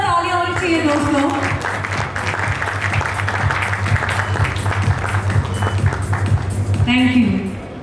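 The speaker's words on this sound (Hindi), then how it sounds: "एक बार जबरदस्त तालियां होनी चाहिए दोस्तों।" Audience applause at a stage felicitation ceremony, a dense, sustained clatter of many hands clapping under a steady low hum, with voices speaking over it at the start and end.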